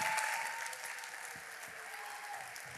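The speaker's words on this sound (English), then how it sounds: "So if you guys would please give a warm round of applause to my 18-year-old son" Warm applause from an event audience for a speaker's 18-year-old son, a steady wash of many hands clapping throughout, fairly even in loudness and heard alone.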